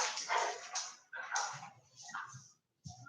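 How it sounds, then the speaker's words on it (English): Playful French bulldogs yip, whine and bark in short, fairly quiet bursts indoors late at night, with a brief gap before a final yelp. "the little Frenchies I was watching are way loud"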